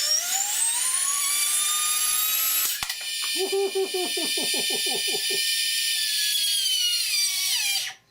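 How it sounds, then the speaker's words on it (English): A 30mm ducted fan with a 7300 kV 12mm inrunner and printed 9-blade rotor on 4 cells whines loudly and rises in pitch, then a sharp crack as the rotor comes off, the high whine continuing under brief talk until it spins down. "Proton new 7300 kV 12 mil inrunner with a printed 9-blade rotor, and we're going to try this on 4 cells."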